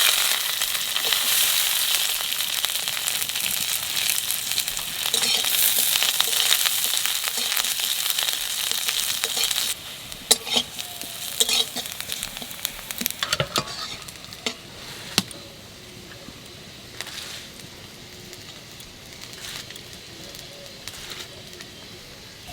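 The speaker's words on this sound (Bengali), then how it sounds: "কটা কালো জিরে আর রসুন বাজিয়ে নেব।" Black cumin seeds and garlic sizzling in hot oil in a home kitchen, a steady crackling fry with occasional stirring scrapes and clinks, while birds call faintly in the background.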